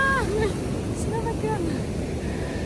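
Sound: strong ocean waves on a beach

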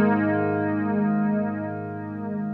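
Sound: flanger effect with feedback being increased

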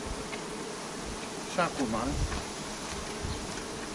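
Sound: honey bees buzzing around a hive nucleus

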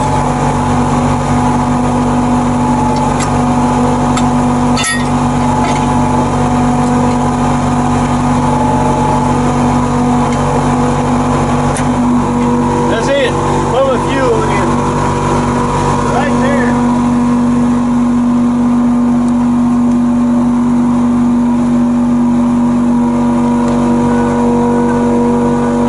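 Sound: Tigercat 630E skidder engine running

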